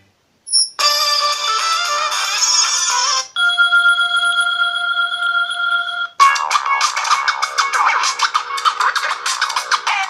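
A Blackview A5 budget smartphone plays its ringtone at maximum volume, giving three bright electronic melody segments in a row, steady tones in the middle, close and moderately loud with no talking.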